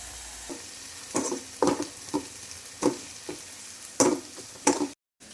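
Capsicum and homemade masala sizzle while being roasted in a pan, with soft crackling and several sharp stirring scrapes spread through the clip, close and without talk, ending in a brief silence.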